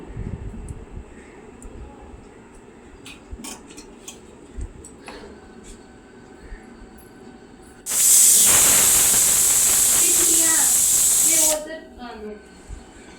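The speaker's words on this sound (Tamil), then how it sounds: "இதை ஒரு 5 விசில் வர வரைக்கும் வேக விட்டுக்கலாம்" A pressure cooker cooking lentils lets out a loud, continuous hiss of escaping steam for several seconds, breaking in abruptly after quieter kitchen ticks and clicks and cutting off just as suddenly.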